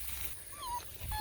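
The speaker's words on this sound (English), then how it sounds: "Alright, come on puppies!" Young puppies giving a few thin, high whimpers and short yips, soft and fairly close against a quiet background, with no talking.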